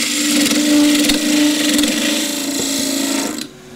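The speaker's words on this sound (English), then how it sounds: "I come in to cut the flange, cylindrical flange, with a square end scraper." A wood lathe spins as a square end scraper cuts the cylindrical flange of a box lid, a close, steady whirring scrape with a humming tone that drops away abruptly near the end.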